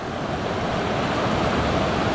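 Continuous roaring rush of water pouring over rocks at Durga Waterfalls in Karkala, loud and unbroken throughout.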